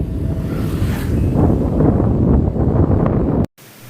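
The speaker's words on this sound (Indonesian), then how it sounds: "Angin ribut campur hujan." A strong wind and rain storm in the mountains roars as a loud, dense, continuous rush that abruptly cuts off near the end, with no talk.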